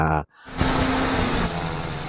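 A 2017 Toyota Vios engine with an unstable, rising-and-falling idle runs close by. A brief cut is followed by a loud, steady mechanical drone that shifts slightly partway through.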